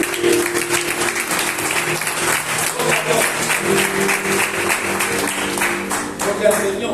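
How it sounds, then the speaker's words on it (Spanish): A church congregation breaks into sustained applause, a dense, even wash of many hands clapping that fills the room at close range, with a few voices mixed in. "Vamos a dar un aplauso a eso."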